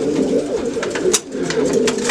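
Pigeons coo and murmur steadily in a breeding loft, soft overlapping calls with a brief sharper flutter or call partway through.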